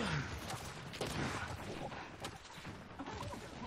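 Gunfire in the shooter game Gears 5, a dense burst of rapid shots and impacts packed into a few seconds, loud and busy with crashing hits layered over one another.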